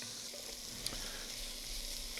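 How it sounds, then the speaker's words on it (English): Faint, steady sizzling of onions frying in a pan, a continuous crackling hiss with a small pop partway through. "I find the sound of onions cooking, really anything sizzling in a pan, extremely satisfying."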